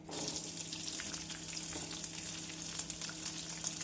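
Shallots and garlic fry in hot oil for mint chutney, giving a steady soft sizzle and crackle close by with occasional stirring, quiet and with no talk.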